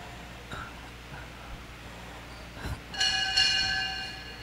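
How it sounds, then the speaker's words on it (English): A boxing bell at an exhibition boxing event rings out with two quick, close strikes whose bright metallic tone lingers and fades, following a few seconds of quiet room murmur and small thumps. "Pwedeng pa isang kampana nga dyan."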